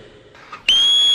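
A shrill whistle blown to summon someone cuts in sharply and holds one loud, steady, piercing tone after a few soft rustles.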